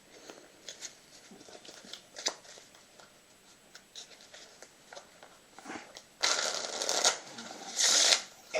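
Soft riffling and flicking of Bicycle Election Edition playing cards, quiet at first, then a louder burst of card shuffling near the end.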